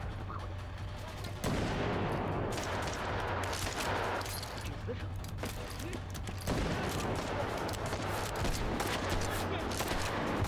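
Gunfire from a sausage gun in the VR shooter H3VR comes as sustained bursts of rapid shots, close and loud, with a short break between volleys.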